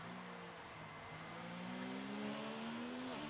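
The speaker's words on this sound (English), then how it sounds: "Listen to the Ferrari." A Ferrari racing car engine in a racing video game, where the car competes at the Canadian Grand Prix, holds a steady, faint high-pitched whine that climbs smoothly as the revs build, with no talk over it.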